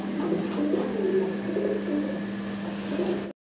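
Pigeons coo steadily and close by in a low, continuous throaty murmur that runs the whole time with no pauses. No voices are heard over it.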